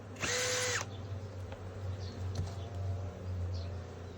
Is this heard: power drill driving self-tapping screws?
yes